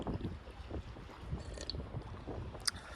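Wind gusting outdoors beside water on a breezy day, a steady low rumble of buffeting against the microphone with faint lapping of waves, continuous and close.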